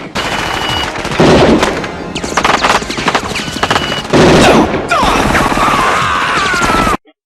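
Heavy, sustained automatic gunfire from the 1987 film RoboCop: loud, dense bursts of rapid shots that run almost continuously, broken by brief pauses, with some crashing impacts mixed in.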